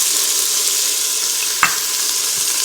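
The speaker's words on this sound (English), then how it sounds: "So I'm just going to saute this until it warms up a little bit" Turkey, green onions, corn and cauliflower sautéing in a pot for turkey soup: a steady, even sizzle with one brief utensil knock midway, no talking.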